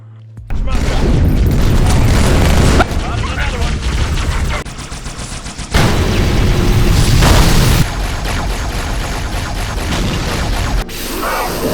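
Weapon fire from Halo 2, the video game, in a loud, dense montage of booming shots and rapid bursts with explosions, running almost continuously with abrupt cuts between segments.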